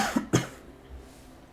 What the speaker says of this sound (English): sorry if you heard that cough